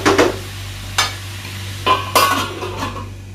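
Crab roast masala cooking in a covered pan, with a steady low hum beneath and several sharp clanks and scrapes of a spoon or lid against the pan, spaced about a second apart, over a soft sizzle.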